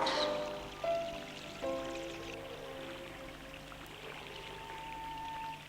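Cartoon rain effect in an animated Kazakh story: a steady, soft hiss of falling rain that runs throughout, with faint tonal music lines underneath.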